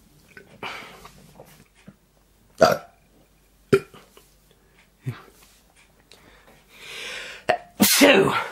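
Several sharp, explosive sneezes burst out one after another with quiet gaps between, followed by a louder, breathy outburst at the end.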